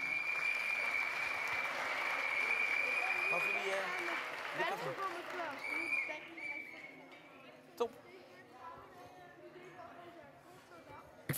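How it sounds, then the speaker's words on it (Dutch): Applause from an audience at a youth sports awards ceremony honouring young sailing champions, a dense steady clapping that fades after about six seconds into murmuring chatter with a sharp knock near the end. "En hartelijk applaus voor jullie."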